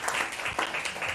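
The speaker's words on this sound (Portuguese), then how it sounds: "Eu quero pedir uma salva de palmas para vocês, deputadas aqui presentes" A brief burst of audience applause greets female deputies at a Brazilian law-signing ceremony, steady dense clapping lasting about a second.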